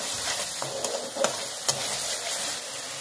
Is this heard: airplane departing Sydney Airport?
no